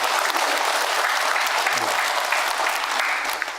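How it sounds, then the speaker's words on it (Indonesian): A seated audience at a religious question-and-answer talk breaks into dense, continuous applause, loud and steady before thinning slightly at the very end. "Tepuk tangan untuk kita semua."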